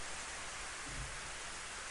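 Steady rain falling in the Planetarian visual novel, a soft, even hiss of rainfall that continues unbroken with no other sounds over it.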